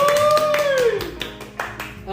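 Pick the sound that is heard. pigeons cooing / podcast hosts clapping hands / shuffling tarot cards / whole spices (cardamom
podcast hosts clapping hands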